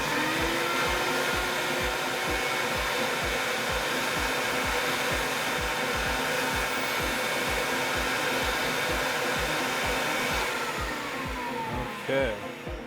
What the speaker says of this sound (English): We basically just do it and then vacuum it up.